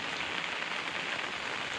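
Rain pattering onto broad taro leaves, a dense, even hiss of countless drops falling steadily and close, with no voices.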